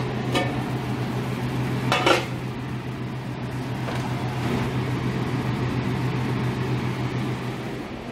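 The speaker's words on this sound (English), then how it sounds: "Okay, let's get them out of the canner." Glass jars of green tomato marmalade are lifted from a water bath canner, giving a couple of sharp glassy clinks early on over a steady low hum and soft bubbling background.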